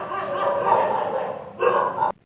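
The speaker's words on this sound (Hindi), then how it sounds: "कुत्ते भौंक रहे हैं" Dogs bark outdoors in a steady run of calls, with a louder burst near the end before cutting off, heard at moderate distance.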